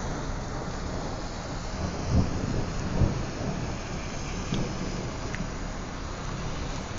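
Thunder rumbles through a steady wash of heavy rain during a storm in McLean County, Illinois, with a couple of low rolling booms rising above the constant downpour.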